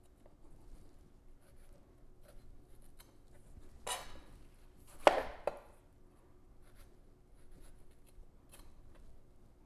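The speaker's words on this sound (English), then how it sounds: "We're going to slice them down the middle. We're going to core them." Knife coring Roma tomatoes on a cutting board: two short, crisp cutting and scraping sounds close together, followed by a few faint taps in an otherwise quiet kitchen.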